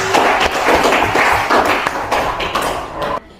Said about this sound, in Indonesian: tepuk tangan buat Depi.